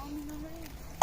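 A single short, loud cough or throat clear from a person with a cough, close by at the very end after a brief faint voice at the start, outdoors near a paddy field during a rice-carrying fair.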